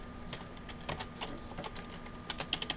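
Quick, uneven typing on a computer keyboard, with light clustered key taps that end in a few sharper strokes, heard close and alone without talk.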